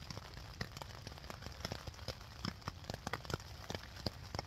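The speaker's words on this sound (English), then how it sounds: "The rain has been relentless." Relentless rain pattering on a tent at a wild woodland camp, irregular close drops tapping sharply over a soft steady hiss, quiet overall.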